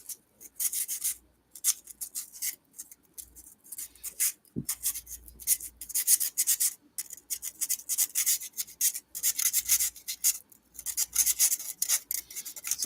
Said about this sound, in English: Just a lot of sanding.